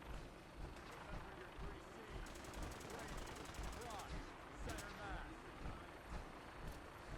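Gunfire from target practice in Fallout 4, a run of rapid shots rattling at moderate distance beneath a steady background rumble, with people talking over it.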